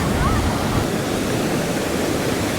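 Sea waves wash onto a beach in Mexico, a loud, steady broadband roar of surf that never drops out, with no one talking.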